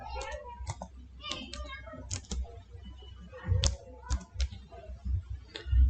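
Typing on a computer keyboard, quick clusters of light key clicks in an uneven rhythm, close and soft, with quieter pauses between bursts.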